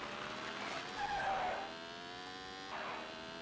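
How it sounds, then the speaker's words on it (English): Squealing tire screeches from the Sega Saturn version of Virtua Racing, thin and high like gull cries, rise and fade in two brief bursts over a steady engine drone. "Looks like cool sound effects for seagulls."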